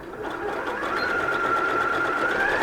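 A sewing machine runs a steady, continuous stitch along a faux fur patchwork seam, a close, even mechanical whir with a rising hum and no pauses.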